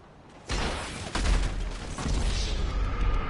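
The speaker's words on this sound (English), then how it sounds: "He's using a freaking MG." Machine gun fire in a video game, an abrupt onset into loud continuous rattling bursts with heavy low booms, sustained and dense, close to the listener.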